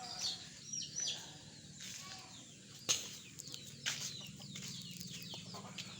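Backyard chickens settling into a tree roost cluck and call softly. A brief wing flap or rustle breaks in now and then over a steady low background hum.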